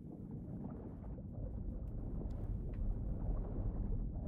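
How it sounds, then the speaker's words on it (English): Low, steady engine rumble from a vehicle in Dying Light 2, a continuous droning hum that fills the clip and swells slightly toward the end, with no talking. "Oh, that's the engine sound."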